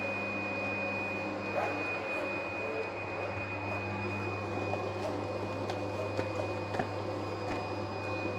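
Duplo PFI Blade B2+ digital cutting table running a creasing and cutting job: a steady mechanical hum with a constant tonal whine, overlaid by faint irregular ticks and soft knocks of the moving head, with no talk.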